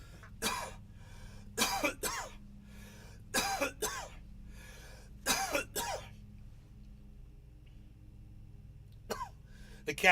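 A person coughs after a bong hit in a series of harsh, raspy bursts, some in quick pairs, fairly close, with quiet pauses between them and a final cough near the end.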